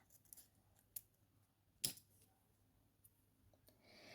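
Scissors snip through crochet yarn during a sleeve-knitting session, giving a few sharp, close cuts: one faint snip, then a louder distinct one, with soft handling noise between.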